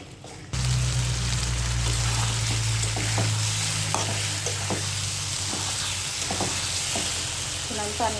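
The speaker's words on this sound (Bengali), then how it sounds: "তবে আমি এখন কচুমুখিটা কষাবো।" Taro stir-fried in a pan, a loud dense sizzle that starts abruptly, with repeated scraping stir strokes and a low steady hum underneath.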